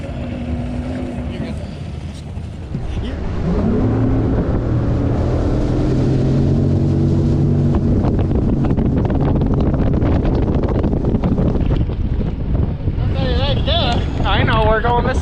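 An outboard motor running on a boat just launched on Braidwood Lake, a loud continuous engine drone with heavy wind buffeting the microphone and voices talking over it.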